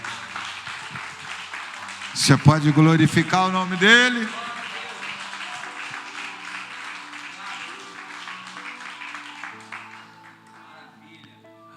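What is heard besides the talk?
congregation applauding in church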